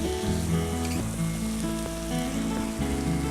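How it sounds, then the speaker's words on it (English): Sweet potatoes and vegetables seasoned with herbes de Provence sizzle steadily in a pan as they are stirred, a continuous close frying hiss with no talk, layered over a constant low tonal hum. "I'm going to give this a nice quick stir just to get the vegetables kind of incorporated throughout"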